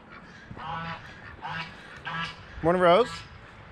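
Ducks quacking in bursts between a person's greetings, with one louder, longer honking call near the end, fairly close.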